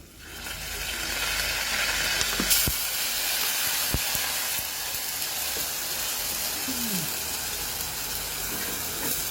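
Vinegar poured onto garlic frying in a pan for Egyptian fatta, giving a steady, close hiss and sizzle that carries through without a break.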